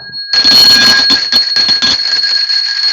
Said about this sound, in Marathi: धूप दाखवताना घंटी सुद्धा वाजवूया